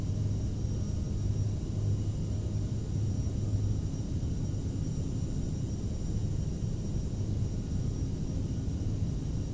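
Steady, loud jet roar from the engines of a CRJ 700 airliner at climb power in Microsoft Flight Simulator, a continuous low rumble with a faint whine above it that holds unchanged throughout, with no talking.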